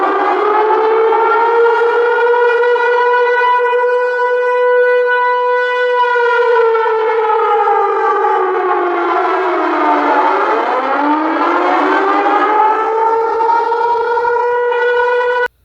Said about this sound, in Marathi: बेळगाव शहरातील 2 ठिकाणी ब्लॅकआउट वॉर सायरन वाजवण्यात आले.